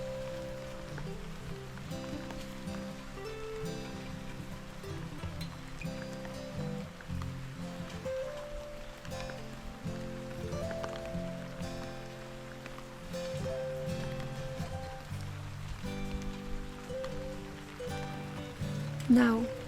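Rain falls in a garden, a soft, constant patter of drops on surfaces heard close by, running steadily throughout with gentle tonal sounds layered over it.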